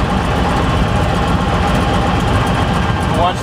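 A Beech Staggerwing aircraft's radial engine runs as its RPM drops, a loud continuous rumbling drone filling the whole clip at close range.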